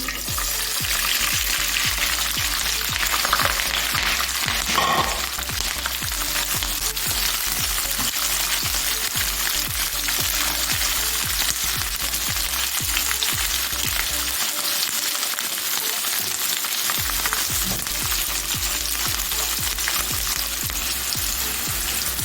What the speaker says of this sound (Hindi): अब मैं सबसे पहले शिमला फ्राई कर लूँगी।